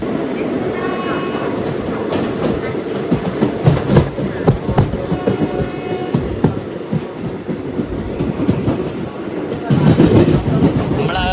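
The Chennai–Alappuzha Superfast Express rolls along close by as it departs a station, wheels clattering rhythmically over rail joints under a heavy rumble, growing louder near the end.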